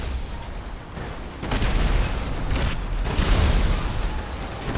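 Explosions in a fake Grand Theft Auto VI gameplay session: a loud, sustained barrage of booming blasts and crackling debris rolling on for several seconds, with bursts building around the middle and end.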